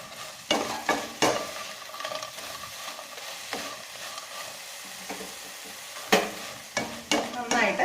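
Spicy potato fry being stirred in a hot pan, a spoon scraping and knocking against the metal in irregular bursts over a soft, continuous sizzle, close and clear with no talk.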